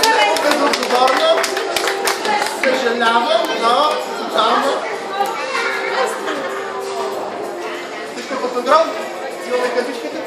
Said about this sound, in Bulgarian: А сега ще по-силни аплодисменти отново за мама!